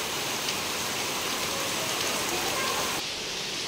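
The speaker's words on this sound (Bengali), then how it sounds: "হঠাৎ করে বৃষ্টি এত জোরে শুরু হয়ে গেল, বিচ্ছিরি রকম বৃষ্টি হচ্ছে" Heavy rain pours down in a sudden downpour, a dense, steady roar of water hitting surfaces that drops slightly in brightness near the end.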